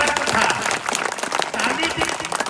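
Dense clapping from a crowd at the Bandei Tihaar festival in Papdera, Sambalpur, steady and fairly loud throughout, with voices mixed in.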